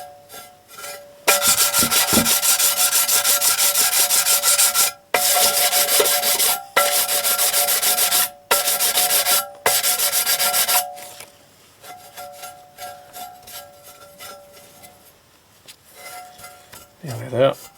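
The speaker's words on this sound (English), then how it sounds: "I'll give both surfaces a further clean. Just in case any oil or grease has got on these surfaces." Both Ford EcoBoost 1.0 sump gasket surfaces are rubbed clean by hand. The scrubbing is loud and close, in several long bursts broken by brief pauses, then softer scraping and a faint knock at the end.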